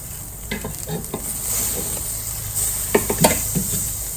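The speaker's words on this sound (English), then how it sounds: "So the grill's been preheating itself. Now it's time to get the steaks on." T-bone steaks being laid on a preheated grill give off a constant loud sizzle and hiss. Scattered clinks and scrapes of tongs or utensils sound against the metal grill, with no voices.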